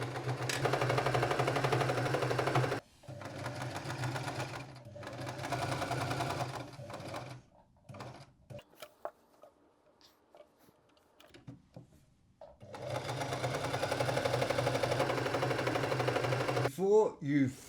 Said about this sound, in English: We're going to sew from the hem up to this corner